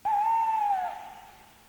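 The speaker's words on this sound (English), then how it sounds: "An owl came out and flew about," A single owl hoot rings out as one clear, steady tone that fades slowly, heard alone.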